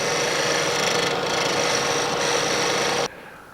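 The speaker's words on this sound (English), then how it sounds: "now I'm going to shear scrape and lower my handle and clean this up" A wood lathe spins as a scraper shears across the bottom of a bowl, giving a loud, steady hissing scrape for about three seconds before it stops abruptly and leaves only a quieter whir.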